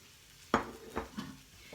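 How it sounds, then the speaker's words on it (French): Onions simmering in a pan for a fish tajine, with a few quick scraping knocks of stirring over a faint, low sizzle. "pendant ce temps que les oignons sont en train de mijoter"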